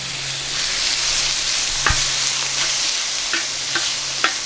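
Lean ground beef fries on a Skottle griddle in a steady, close, hissing sizzle, with a few sharp ticks and pops from a spatula scattered through it.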